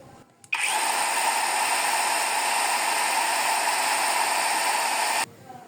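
A MOLLAR cordless circular saw, a wood cutter, spins up and holds a steady, loud high-RPM whine for about five seconds before cutting off abruptly.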